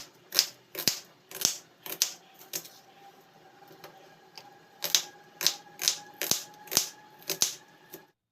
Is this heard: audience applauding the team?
no